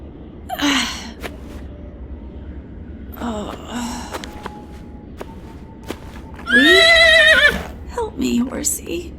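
A horse in a video game lets out several whinnies and snorts in bursts, the loudest and longest near the end, mixed with breathy gasps and a few thumps.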